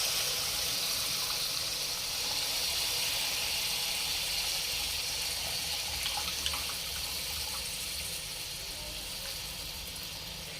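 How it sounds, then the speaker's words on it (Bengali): Water poured from above over soaked mustard paste in a cooking pan for a Bengali pomfret curry, a steady broadband splashing wash running throughout and easing off slightly toward the end. "ওপর থেকে জলটা ঢেলে দেব"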